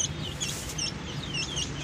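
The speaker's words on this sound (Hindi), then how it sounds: "ये देख सकते हैं न्यू एंट्री हो गई है चूज़ों की" Newly arrived Aseel chicken chicks peep in thin, high, repeated chirps, close by, over a low steady background rumble.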